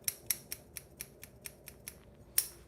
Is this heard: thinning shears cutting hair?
yes